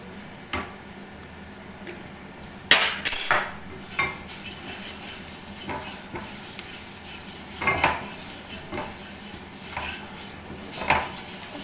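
Paneer with oregano, chilli flakes and black pepper cooks in a pan as a utensil scrapes and clinks against the metal in irregular bursts over a faint sizzle, close and without talk.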